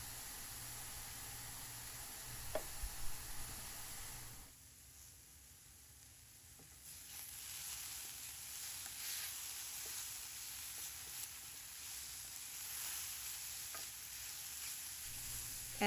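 Garlic and browned mushrooms fry in a pan for a low-calorie ramen stir fry, a steady close sizzle with a few sharp clicks early, then a softer, even hiss continuing alone.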